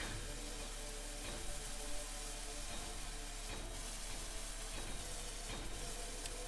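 A welder in Space Engineers gives off a steady, faint electric sizzle and hiss, with small crackling pulses recurring every second or so, heard alone without voices.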